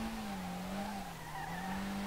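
A car in Street Legal Racing Redline drifts through a lap, its tires holding a long, wavering squeal over a continuous engine drone, loud and unbroken.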